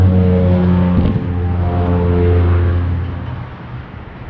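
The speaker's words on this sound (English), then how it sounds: "You have to excuse the noise from the road." Road traffic rumbling past nearby, a steady low engine drone that swells and then fades as a vehicle moves away, with nobody speaking.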